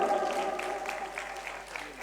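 An audience at a jatra stage show claps steadily with a murmur of crowd noise under a sustained musical tone, heard from a middle distance.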